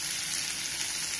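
Capsicum and spring onion fry in a wok with a dense, continuous hiss of sizzling oil, close and steady throughout the short stretch, with no voices.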